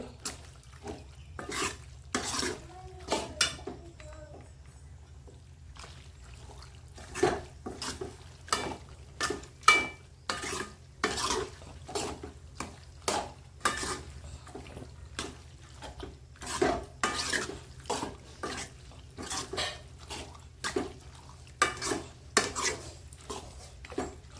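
Blood and intestine fry being stirred in a pan, a metal spoon scraping and clanking against the pan in a steady, repeated rhythm over a low sizzle, close and fairly quiet, with no voices.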